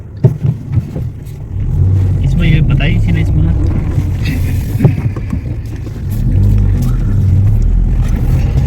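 A car engine rumbles steadily while the vehicle drives and turns right at a road junction on the way to a temple in Una, Himachal Pradesh, with passengers talking over the road noise inside the cabin.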